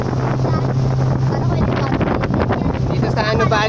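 Strong wind buffeting the microphone in a constant loud roar, with a boat engine's drone underneath and voices briefly audible.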